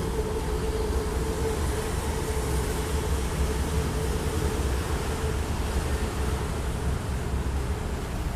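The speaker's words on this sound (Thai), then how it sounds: "รถไฟฟ้ากำลังจะวิ่งเข้าสถานีปักน้ำค่ะมาจากศรีนคริน" Steady rumbling train noise with a low droning hum, a continuous loud roar of an elevated electric BTS train rolling along the track into Pak Nam station, Samut Prakan.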